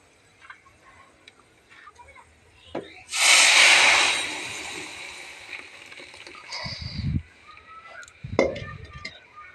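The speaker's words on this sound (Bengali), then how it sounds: "এখন আমি ডালটাকে ঢেলে দেব।" Mung dal is poured into hot tempering oil in a pan, giving a sudden loud, close burst of sizzling that fades over about two seconds, followed by a few clattering utensil knocks amid quiet kitchen background.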